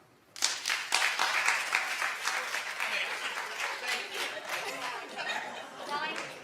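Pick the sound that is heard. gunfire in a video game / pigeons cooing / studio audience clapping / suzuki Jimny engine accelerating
studio audience clapping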